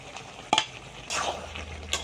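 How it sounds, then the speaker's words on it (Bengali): Spices and potatoes are stirred with mutton in a pan, giving a soft sizzle under a few scraping stirs and a brief clink of utensil against metal. "মশলা ও আলুগুলি দিয়ে ভালো করে উল্টিয়ে পাল্টিয়ে ভালো করে কষিয়ে নেব।"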